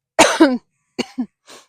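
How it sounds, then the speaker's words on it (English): Two close, sharp coughs followed by a fainter third, each a short raspy burst with brief silences in between. "I still have this cough going on"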